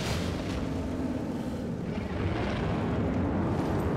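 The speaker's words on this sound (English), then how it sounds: "Body explosion, get back." A body explosion in the Dark Souls III video game booms out as a sustained, heavy roaring blast with low rumble, loud and continuous across the moment.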